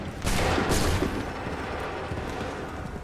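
A loud musket volley bursts from massed infantry in Assassin's Creed III: a sharp crackling fusillade of overlapping shots, then a sustained rumbling battlefield din that fades slightly.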